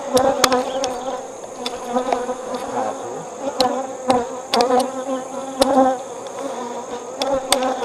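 Honey bees buzz around an open hive on a warm day during a winter-readiness inspection, a dense continuous hum with individual bees zipping close past, no talk.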